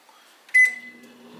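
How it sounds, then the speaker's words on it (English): A microwave oven poaching an egg in water gives a short bright electronic tone that fades into a low steady hum, close and clear with no talking. "So it was in the microwave for 1 minute 20 seconds."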